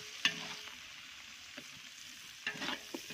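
Green chillies fry in hot oil with golden fried onions in a pan, a soft continuous sizzle under a few sharp stirring clinks and scrapes.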